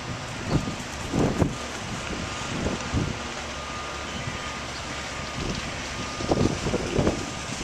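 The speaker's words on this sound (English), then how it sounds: "a little breezy, a little windy, but definitely very nice" Gusts of wind buffet the microphone outdoors in Jaffa, Israel, with soft rumbling bursts over a quiet, steady background.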